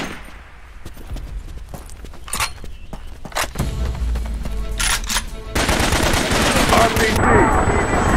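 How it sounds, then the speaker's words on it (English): Machine gun fire in the squad shooter Raven Squad sounds as sporadic shots and rapid bursts amid battle noise, growing denser and louder toward the end, with voices calling out over it. "I'm under fire!"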